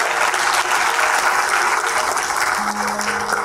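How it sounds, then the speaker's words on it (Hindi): An audience at a motivational speech for students who passed a competitive exam claps loudly, a dense, sustained wash of applause from many hands across the whole stretch. "आप सबसे पहले खुद के लिए ज़ोरदार तालियां बजाएं।"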